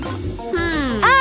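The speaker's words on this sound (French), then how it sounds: "Mais où est-ce que je vais mettre mon chat?" A cat meows in a short rising-then-falling cry, loud and close, cut in with brief voiced sounds in a playful cooking challenge setting.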